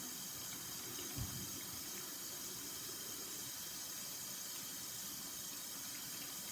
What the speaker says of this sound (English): I'll wash up.